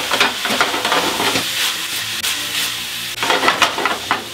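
Onion, garlic, paprika and chili toasting in a pan for spicy creamy penne, giving a steady close sizzle and hiss with stirring scrapes throughout, no talking.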